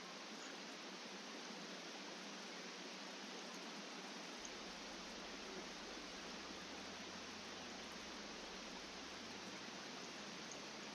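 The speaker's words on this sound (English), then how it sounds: "And of course it's raining." Steady rain falls in the Roblox Bloxburg video game, a soft, even hiss that stays uniform and faint throughout with no voices over it.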